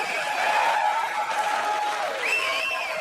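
A stand-up comedy audience cheers and applauds in a sustained, even roar of crowd noise, with a sharp whistle rising near the end.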